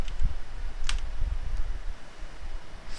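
Keys clack on a computer keyboard as Alt and Enter are pressed in a spreadsheet, a few sharp clicks spaced apart over a faint hum.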